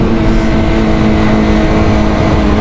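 A 2023 BMW M1000R motorcycle engine revs hard and loud at close range, a continuous dense roar holding steady throughout with no pauses.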